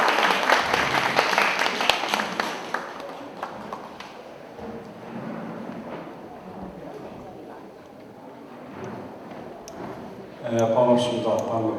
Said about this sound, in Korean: 다 같이 큰 박수로 환영해 주시기 바랍니다.